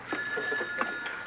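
A telephone rings on the other end of the line, a faint, thin trilling ring heard through the handset in short repeating bursts.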